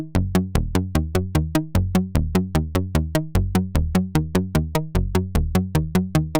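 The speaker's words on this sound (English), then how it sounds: "now I've got that meaty sound with the pluck of the strike on the 6 dB." Make Noise LxD low pass gate run through its 12 dB envelope section with a 6 dB strike adding pluck: a steady, fast train of punchy, meaty synth notes in a repeating melodic pattern, each with a sharp attack and quick decay, with no voices.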